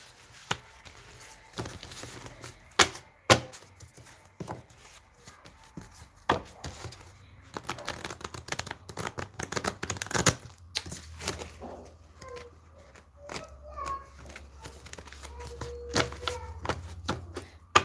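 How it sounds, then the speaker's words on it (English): Tarot cards being shuffled by hand, a run of irregular soft slaps and riffling flutters close to the microphone, with quiet pauses between bursts and a faint low hum later on. "I'm just trying to give these a good shuffle."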